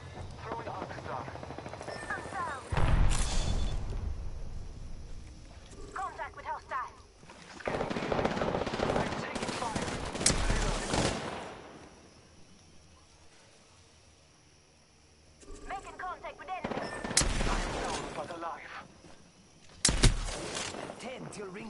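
Gunfire rings out during an Apex Legends match in bursts of sharp shots, with quieter stretches in between. A player talks over parts of it.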